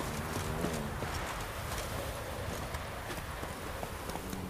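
Roach, Geralt's horse in The Witcher 3, walks with a steady clip-clop of hooves, close and continuous over a bed of ambient game noise.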